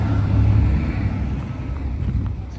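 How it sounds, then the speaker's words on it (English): A big tractor passes on a road beside old stone walls, its loud, steady low engine rumble heard close by alongside heavy wind buffeting, with no voices. "big tractor coming down there."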